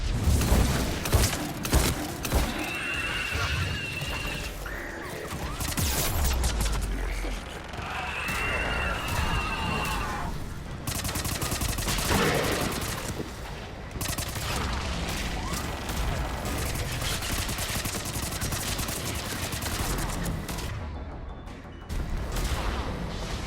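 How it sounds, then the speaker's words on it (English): Missile launches in Mass Effect 3's Paradise Lost mission: repeated booming shots and whooshes through a dense, continuous combat din, with voices speaking throughout. "Missiles away."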